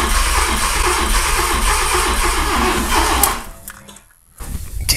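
A Fiat Seicento with a 1.1-litre turbo engine fires up for the first time and revs high and loud. It holds a dense roar for about three seconds, then drops sharply to near quiet before the noise picks up again.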